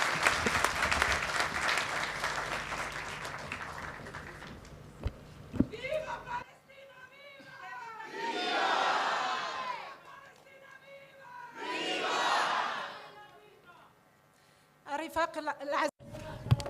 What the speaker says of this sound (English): Can we give a round of an applause as she comes?